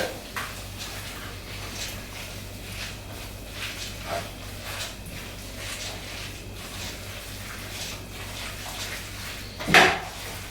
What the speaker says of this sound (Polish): I teraz śmiało możemy wlewać. I od razu mieszamy.